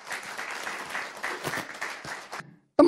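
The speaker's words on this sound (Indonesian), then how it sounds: "Tepuk tangan dulu." An audience claps steadily through a motivational talk, a dense, moderately loud patter of hands that cuts off abruptly near the end.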